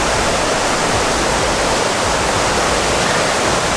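A waterfall on a river pours in a dense, unbroken roar, loud and close, filling the whole clip without any voices.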